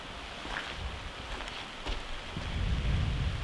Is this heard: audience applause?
no